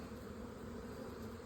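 Honey bees on a hive frame make a steady, low, even buzz, close and unbroken for a brief moment, with no voices.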